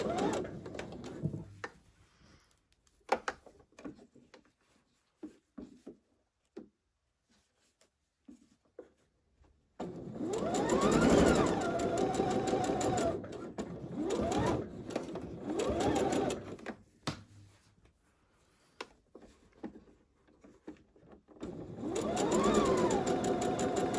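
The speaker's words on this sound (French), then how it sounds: "Et je passe à la machine. Je positionne ça ainsi et je cache ma couture et je pique." Sewing machine stitching close to the edge of a fabric band for a tank top, with short bursts of rapid mechanical whirring separated by pauses, then longer steady runs later on.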